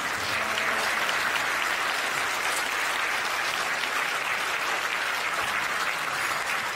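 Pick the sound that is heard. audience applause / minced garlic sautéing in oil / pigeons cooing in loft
audience applause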